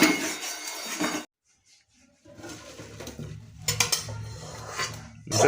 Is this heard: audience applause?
no